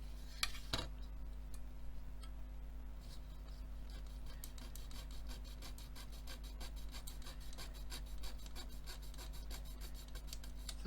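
Hobby knife blade cutting plastic part of an Airfix 1/24 F6F-5 Hellcat model kit, a quiet, close series of rapid scraping and rasping strokes at an even rhythm, heard alone.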